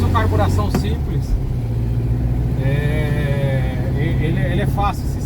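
An air-cooled Volkswagen Fusca 1600 engine runs with a steady low rumble while the car drives, heard from close by inside the cabin, with people talking over it.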